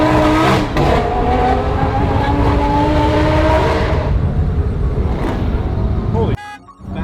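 A supercharged supercar engine revs hard and accelerates, a loud sustained roar with rising tones that cuts off abruptly near the end, with a voice briefly audible.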